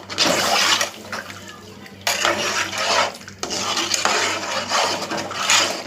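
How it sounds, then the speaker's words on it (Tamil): Water poured into a rinsed jar in a home kitchen, a steady splashing stream that swells and falls in three bursts over about six seconds, fairly close with a little clinking of the jar. "கொஞ்சம் தண்ணி ஊற்றிக்கலாம்."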